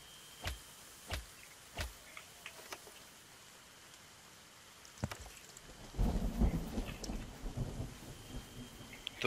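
Rain and thunder in the dinosaur survival game The Stomping Land: a quiet, steady patter of rain with a few sharp thunder cracks early on, then a longer rolling rumble rising midway, all fairly faint and without talk.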